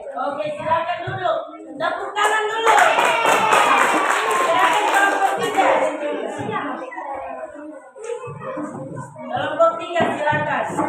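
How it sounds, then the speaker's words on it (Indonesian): Elementary schoolchildren in a fifth-grade classroom break into a burst of lively clapping that swells and then fades, with a teacher's voice talking before and after. "Tepuk tangan dulu."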